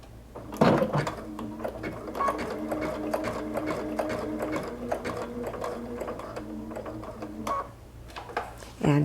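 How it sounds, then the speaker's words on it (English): A sewing machine stitches a button onto fabric, running in quick rhythmic bursts of mechanical clatter with brief pauses, close and moderately loud, with a voice talking over it. "lower the presser foot down and begin stitching"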